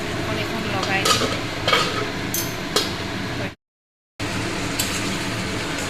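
Chicken meat sizzling in a hot pan as it is stirred, with loud scraping and clinking of the utensil against the pan in uneven strokes, then a brief cut to silence before the frying resumes.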